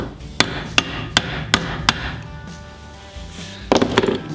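Sharp hammer taps on metal held in a vise during a welding repair of a rolling cart: five evenly spaced strikes, then a quick cluster of lighter taps near the end, close and clear over a low hum.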